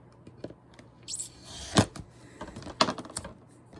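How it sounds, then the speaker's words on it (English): A blade slices through the corner of folded leather along a straight edge while a possibles shot bag is made, giving a few crisp scraping cuts and light clicks close by, with no talking. "we're going to take our straight edge and we are going to just cut the corner here"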